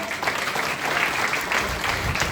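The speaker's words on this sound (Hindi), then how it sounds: "एक बार जबरदस्त ताली सर के लिए।" An audience claps for a guest speaker at a business motivational seminar, a dense, even burst of applause sustained throughout without any talking.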